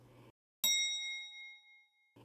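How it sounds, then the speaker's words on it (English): A lift's arrival bell gives one clear electronic ding, its bright tone ringing out and slowly fading over about a second and a half, set between stretches of narrated speech. "It was a bell."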